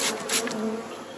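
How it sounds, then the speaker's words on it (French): A small number of honeybees buzz inside a small hive box, a close, continuous droning hum that swells briefly and then settles, with no voices. "On a mis très peu d'abeilles"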